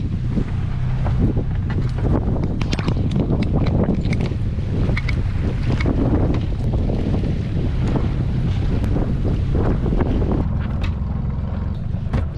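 Wind buffeting a sailboat moored in the port of Cartagena, a loud, steady gusty roar across the whole stretch with low rumbling and intermittent knocks and splashes, no voices.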